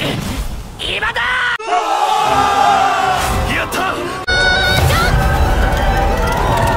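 An anime crowd shouts and cheers after a girl's explosion magic wipes out an undead army. Loud overlapping yells and whoops come from many voices, with music-like tones under them and a sharp cut midway.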